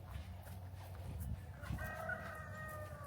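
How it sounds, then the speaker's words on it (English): A rooster crows once at a distance in a farmyard, its drawn-out call rising over a low steady background hum. "You hear the rooster."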